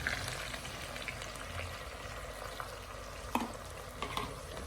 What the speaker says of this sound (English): this slurry, we are going to cook it for a good amount of time